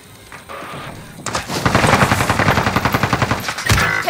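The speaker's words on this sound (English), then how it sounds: "Taking fire here." Automatic gunfire in Call of Duty: Modern Warfare, a loud rapid burst of evenly spaced shots rattling for about two seconds after a quieter lead-in, then a heavier blast near the end.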